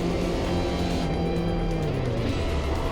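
Porsche 944 race cars at speed on a track as one car crashes out of the race, a loud engine drone with a falling pitch and rough, noisy disturbance, continuous and close.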